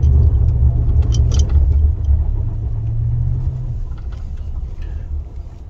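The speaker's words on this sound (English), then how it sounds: "That wasn't a very good, so I'm going to do a bit of a brake stand here." A Ram pickup truck engine revs during a brake stand, a loud deep rumble that holds steady and then eases off as the revs fall away, with some faint clatter toward the end.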